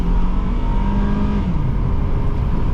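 A 2005 Honda CR-V EX pulls away from a full stop on a wet road, its engine droning loud and steady with a low whirring rumble as the tires briefly spin, no talking over it.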